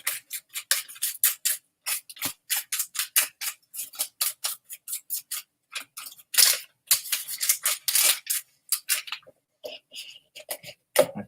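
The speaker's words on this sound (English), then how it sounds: "I'm going to tear this up." Paper is torn in a rapid series of short, sharp rips, pausing briefly between bursts, close and loud with nothing else behind it, while distressed pieces are made for a mixed media canvas.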